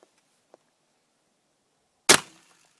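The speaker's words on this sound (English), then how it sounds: "Modified choke. I'll shoot the bottom right part of it." One sharp, loud shotgun blast fired through a modified choke at a target outdoors, a single crack with a quick decaying tail after near silence.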